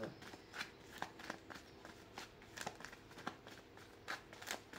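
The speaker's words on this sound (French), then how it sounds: "Déjà, on va bien mélanger." Tarot cards being shuffled by hand, soft papery riffles and taps in a quick, irregular rhythm, close and faint.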